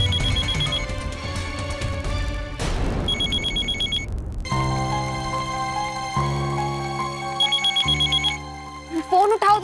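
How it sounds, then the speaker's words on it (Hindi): A telephone rings in a home during a TV drama, its electronic tone repeating in bursts over background music and other sound, fairly loud and close. "फोन उठाओ तुम अपना।"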